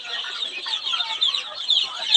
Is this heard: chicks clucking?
yes